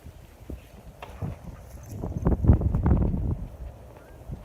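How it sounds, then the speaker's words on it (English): Strong outdoor wind buffets the microphone in rumbling gusts that build toward the middle and then ease, with no clear voice over the roar. "It is windy as fuck out here."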